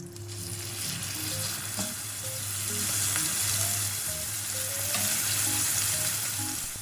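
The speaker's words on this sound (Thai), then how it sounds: "ระหว่างต้มแครอทก็มาย่างสเต็กกันต่อค่ะ" Pork steak grilling in a pan on a home stove gives a steady, close, dense sizzle that runs unbroken, with light clinks of cookware and no talking.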